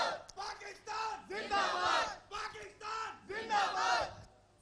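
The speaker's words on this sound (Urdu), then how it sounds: "ہمارے پروگرام میں تو نعرے لگتے ہیں" A crowd at a Pakistani political programme chanting slogans in unison, rhythmic rising shouts repeated in short bursts, loud and energetic with brief pauses between chants.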